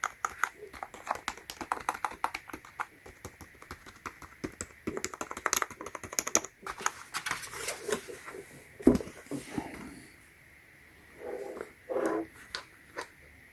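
Clicky typing on the number keys of a HYPERGEAR gaming keyboard, a rapid run of close, sharp taps that thins out and stops for a few seconds before a couple of short bursts near the end.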